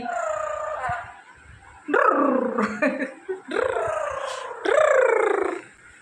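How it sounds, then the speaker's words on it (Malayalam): A young puppy gives several high, whiny barks and yelps in short bursts with pauses between, fairly close, and a bit of faint background noise. "നായ്ക്കുട്ടിയാണ്"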